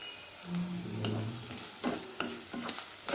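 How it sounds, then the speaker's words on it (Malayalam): Okra with grated coconut is stirred in a sizzling pan, with a soft frying hiss under scraping spoon strokes and a few sharper clinks against the pan, close and fairly quiet with no talk. "അതുകൂടെ ചേർത്ത് നല്ലപോലെ ഒന്ന് മിക്സ് ചെയ്യാം."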